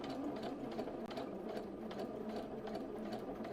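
Stitching a shirt collar, a sewing machine runs in a steady, fast whir for several seconds with one brief pause, close and moderately quiet, with no voices.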